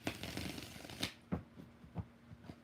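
Tarot cards being shuffled by hand, a series of soft, quick riffling and slapping bursts in an uneven rhythm, close and quiet with no talk.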